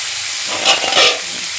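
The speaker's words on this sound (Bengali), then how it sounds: "জিরা গুঁড়ো, ধনিয়ার গুঁড়ো, সব মশলা দিয়ে দিলাম। আমি আর কিছু মশলা দেবো না, এখন একটু ভেজে নেব" Ground cumin, coriander, turmeric and other spices fry in oil in a pan, giving a steady broadband sizzle with two brief louder hissing surges near the middle.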